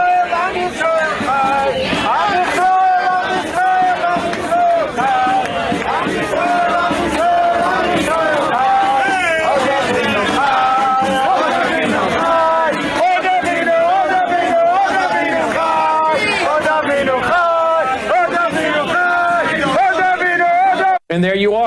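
A crowd of pro-Hamas protesters in a Jewish community in New York fills the air with loud, continuous shouting and chanting voices for the whole stretch.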